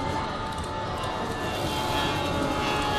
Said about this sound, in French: c'est un avion qui se crache